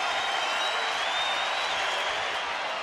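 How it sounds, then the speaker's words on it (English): A baseball stadium crowd at an Oakland-Texas game stands and cheers as a pitcher works a two-strike count: a dense, continuous roar of many distant voices, steady and loud throughout with no individual words. "That's what the crowd is cheering for"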